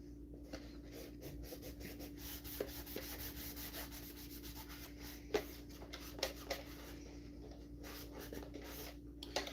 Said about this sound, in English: I'm rubbing oil on the inside of this box